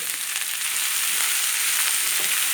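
Sliced ivy gourd with curry leaves and salt frying in a pan for a kovakka stir-fry, giving a steady, fairly loud hiss of sizzling oil that runs unbroken from start to finish with no voices.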